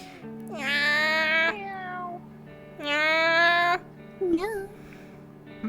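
A person imitates a cat with two long, drawn-out nasal meows and a shorter wavering one at the end, close and fairly loud, during a yoga class.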